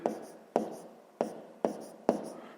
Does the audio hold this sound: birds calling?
no